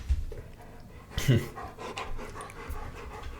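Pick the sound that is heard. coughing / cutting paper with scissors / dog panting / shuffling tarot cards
dog panting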